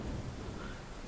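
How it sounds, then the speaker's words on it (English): Thunderstorm ambience in Minecraft, a steady low rumble of thunder blended with a constant wash of rain, loud and continuous throughout without a distinct strike. "Definitely a thunderstorm."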